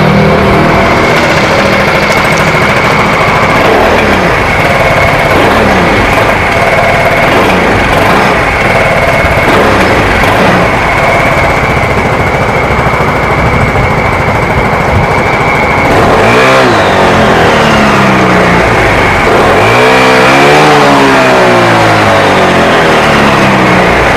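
A Voge SR3 250 maxi-scooter engine running loud and close, a buzzy steady idle broken by two sharp revs that rise and fall near the end.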